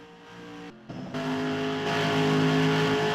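FARCA 80 Tornados race cars roar around Kansas Speedway, engines droning and rising in pitch as they pass and accelerate, loud and continuous, with no clear talk over them.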